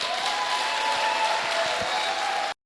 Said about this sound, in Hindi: एक बार जोरदार धमाकेदार तालियां बजाते हुए एवरीवन